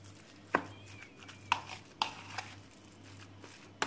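Mantı filling being mixed in a bowl, with a few sharp scattered knocks and clinks against the bowl over a quiet low hum.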